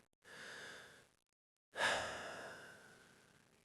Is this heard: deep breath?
yes